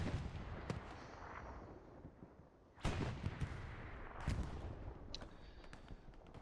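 Artillery and gunfire in the Hell Let Loose video game, a Utah Beach battle: distant cracks and booms with two heavier impacts standing out over a constant roar of battle noise.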